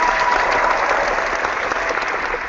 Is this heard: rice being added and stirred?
no